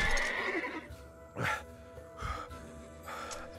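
An armored warhorse in the medieval game Life is Feudal gives a loud, close whinny with a sharp rising burst midway, followed by softer snorting breaths and a second fainter neigh near the end.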